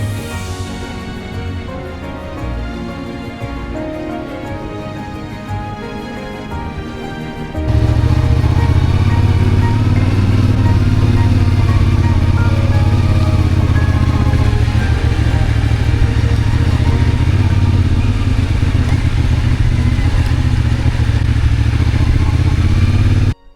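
A motorbike ridden near Ifrane National Park in Morocco, its engine idling quietly at first, then roaring loudly and steadily as the bike gets under way and keeps a constant drone.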